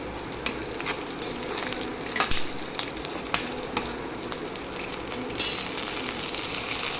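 Garlic, ginger and peanuts roast in a pan for Maharashtrian thecha, giving a steady close sizzle broken by sharp scraping clicks from stirring, with no talk.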